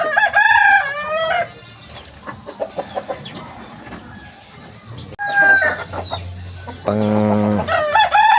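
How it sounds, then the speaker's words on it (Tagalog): A fighting rooster crows loudly twice, bookending a stretch of softer, irregular clucking from nearby chickens. "Ito yung manok ko mga katropa."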